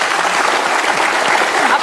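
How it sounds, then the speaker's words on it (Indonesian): Brief burst of applause from a television studio audience, loud, dense clapping throughout with no pauses. "Boleh tepuk tangan."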